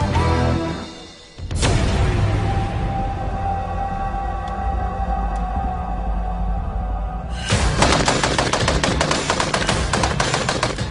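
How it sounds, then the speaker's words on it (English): Browning Automatic Rifle (BAR) firing: after a brief lull, a long sustained burst runs loud and close, and then a second burst of distinct, rapid shots follows near the end. "the Browning Automatic Rifle next."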